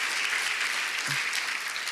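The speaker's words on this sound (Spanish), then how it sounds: "Démosles un fuerte aplauso, por favor" Applause from a church congregation honoring two pastors, a steady wash of clapping filling the whole short stretch at moderate loudness with no voices over it.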